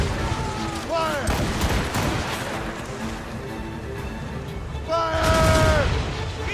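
Repeated volleys of naval cannon fire in the Assassin's Creed Rogue video game, booming blasts and rumbling aftershocks, with shouted voices in between.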